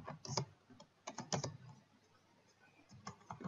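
Keystrokes on a computer keyboard while writing CSS code, coming in short irregular bursts of clicks with quiet pauses between, moderately close and with no talking.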